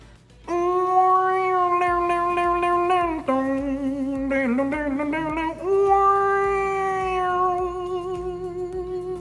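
A voice imitates a wailing electric guitar, sustained singing tones bending and wobbling up and down like a whammy bar, loud and close.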